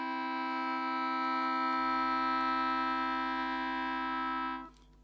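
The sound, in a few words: fifth overtone sounding, a flattened major third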